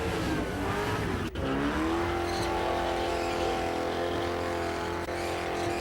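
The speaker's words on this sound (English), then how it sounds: "Six-cylinder powered by the sound of it." Six-cylinder burnout car at the Summernats burnout eliminations, engine held at a loud sustained high rev with a brief dip and climbing pitch, tyre squeal and crowd noise blended behind it.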